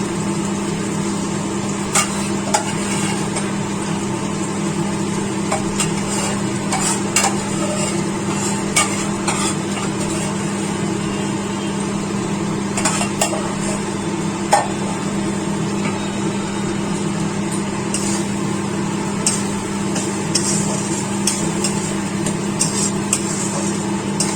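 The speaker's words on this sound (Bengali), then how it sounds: "এবারে আমি সিদ্ধ করা ডালটা দিয়ে দেবো।" Boiled dal in a pan for paneer mixed dal, with a steady soft sizzle and scattered light scrapes of stirring, continuous and fairly close.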